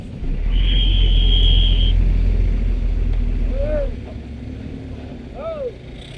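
Heavy engine rumble from a motorcycle stuck in a traffic jam on the Pantura road near Weleri, loud and steady at first, then easing, with faint horn-like chirps and passing vehicles.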